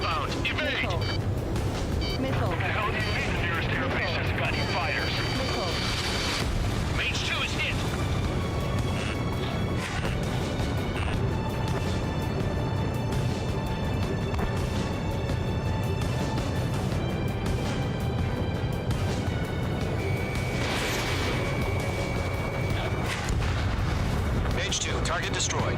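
Missile explosions and gunfire rumble through an aerial combat scene in Ace Combat 7, dense continuous booms and roaring blasts with jet noise, and radio voices speak over the din.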